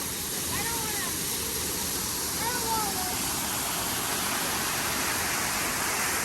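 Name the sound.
waterfall at Epcot's Canada pavilion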